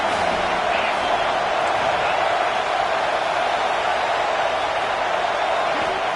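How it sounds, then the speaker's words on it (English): Stadium crowd at a college football game against Oregon, rising into a steady, sustained roar of cheering that stays loud and even throughout, with a commentator's voice faintly mixed in. "This crowd rising up, sensing that its defense needs some help."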